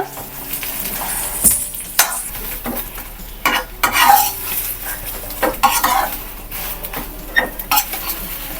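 Pre-fried chicken pieces are stirred in a pan with garlic, chilies and curry leaves for restaurant-style chicken 65. Close spoon scrapes and clanks rise over a steady sizzle, with no talk.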